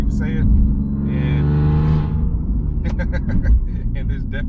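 A twin screw supercharged BMW E46 330i accelerates from inside the cabin, its engine rising in pitch beneath someone talking over it.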